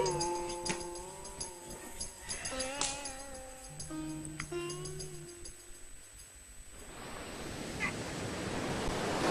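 Sea waves wash in at a beach, a rising broad surf hiss building over the last few seconds after a stretch of music-like tones and faint sounds, with no talking.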